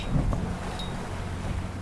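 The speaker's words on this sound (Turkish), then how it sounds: "Oldukça fazla rüzgar var." Low, rumbling wind off the sea buffets the microphone in uneven gusts, a steady blustery roar with no voices.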